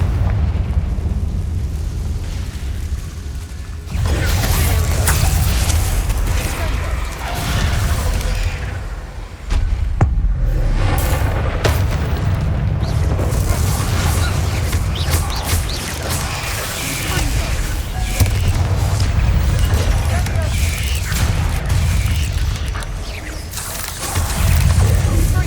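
Confringo blasting spell in Hogwarts Legacy going off with loud, rumbling explosive bursts over a dense game soundscape, repeated booms and crashes through most of the stretch, with a brief dip near the start.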